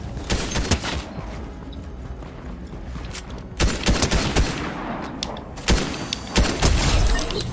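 Rapid SMG fire in Fortnite rattles in dense, loud automatic bursts with brief gaps between volleys, close and sharp throughout.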